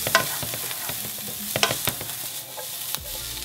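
Onions and garlic frying in olive oil in a pan for vegan quinoa stuffed peppers, a steady close sizzle broken by repeated scrapes and clacks of stirring.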